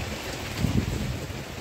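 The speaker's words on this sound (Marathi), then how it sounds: "सुंदर पाऊस पडतोय." Rain falls steadily on a monsoon trek to Sondai fort near Karjat, a dense, even hiss of drops mixed with wind across the microphone, with a faint low bump midway.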